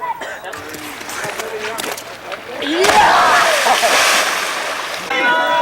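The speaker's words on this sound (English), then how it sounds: "A refreshing swim in Kusham Sarovara." Water splashes and sloshes as people swim in Kusham Sarovara, a holy pond, with bursts of churning water, a louder stretch in the middle, and voices heard faintly around.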